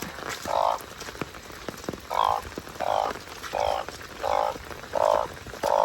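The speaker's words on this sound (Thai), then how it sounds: "โอ้กบ ตัวใหญ่มาพี่" Large frogs croaking at night during heavy rain, with seven or so short, evenly spaced croaks, loud and close, over a constant hiss of pattering rain.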